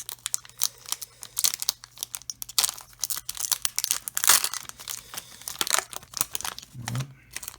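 Plastic wrapping from a Japanese Pokémon Shiny Star V booster pack crinkles and tears in quick, irregular bursts close to the microphone, with a few brief pauses.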